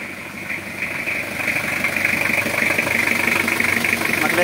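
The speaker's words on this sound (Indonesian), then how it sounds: "kita nyalakan dulu untuk mesinnya" A Toyota Kijang Kapsul engine idles close by, giving a steady, even hum with a faint mechanical rattle that gets slightly louder after the first second and continues unbroken.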